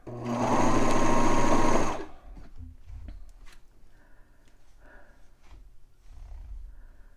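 A serger whirs loudly and closely for about two seconds while stitching a banded neckline on a T-shirt, then stops abruptly, leaving quiet fabric handling, soft rustles and light clicks.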